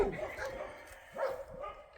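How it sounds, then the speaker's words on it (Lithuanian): An angry dog barks a few times at a former Soviet amusement-park site, sharp bursts spaced about a second apart, at moderate distance, with people talking nearby. "Net šunis pikts."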